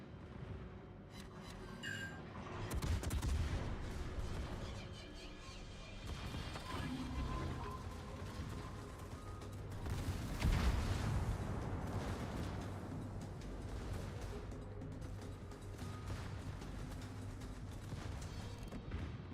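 Ship guns firing in World of Warships, a run of booming salvos and crashing impacts at moderate level through a noisy naval battle soundscape, with a voice talking throughout.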